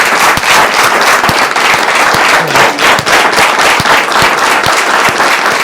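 Loud, continuous audience applause in a studio setting, thick rapid clapping with a few individual sharp claps standing out near the microphone, lasting several seconds without talk.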